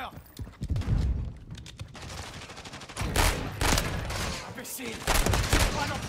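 Rapid gunfire bursts in Warzone 3, sharp repeated shots clustered in several loud volleys across the clip, with a player's voice talking over the shooting.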